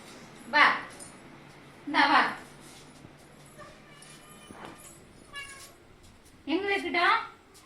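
A cat meows three times, close and fairly loud, with short pauses between calls and quiet household background.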